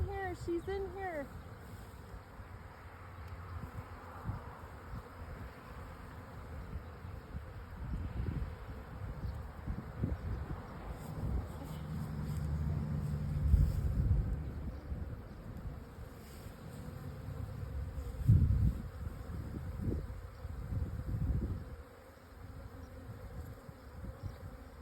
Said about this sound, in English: they're all swarming because they're like, what the heck just happened?